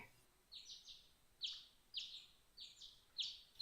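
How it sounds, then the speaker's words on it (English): Morning birdsong: a bird repeats a short bright chirp about every half second, five or six calls in a regular rhythm, faint and slightly distant over quiet background. "I woke the next morning to the sound of birds chirping."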